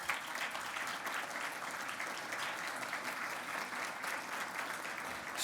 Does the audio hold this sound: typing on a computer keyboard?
no